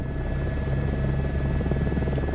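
An Airbus helicopter in Microsoft Flight Simulator 2024 drones steadily with a low rotor thrum and whining turbine hum, loud, close and constant, with no voices.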